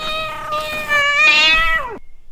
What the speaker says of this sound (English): And it descends like a cheetah.